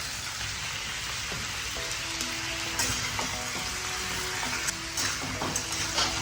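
Pomfret, brinjal and potato fry and sauté in a pan, giving a steady, loud sizzle like rain with occasional stirring clinks and scrapes throughout.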